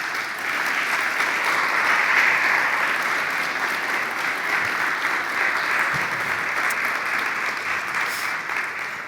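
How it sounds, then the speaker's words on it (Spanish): Steady applause from a church congregation during a Christian sermon, a dense, continuous wash of clapping that holds at an even level for about nine seconds without talk. "Le damos un aplauso a Él"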